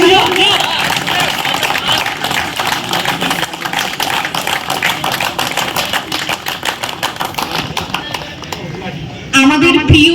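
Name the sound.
audience clapping for a new colleague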